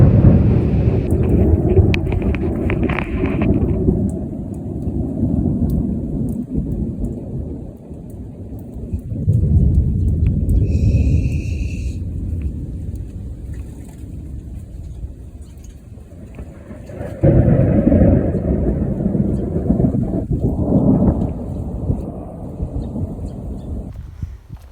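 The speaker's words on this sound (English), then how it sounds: "Definitely had some rattles of thunder before." Summer storm thunder rolls in long, deep rumbles that swell and fade repeatedly, moderately loud and distant, with no talk.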